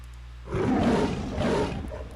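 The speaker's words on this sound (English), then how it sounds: "You can roar." A lion avatar in Second Life lets out a single deep, rumbling roar lasting over a second, loud and close, rising abruptly and fading slightly at the end.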